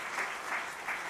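A church congregation claps together in a dense, even wash of applause that swells gently a few times, steady and fairly close throughout.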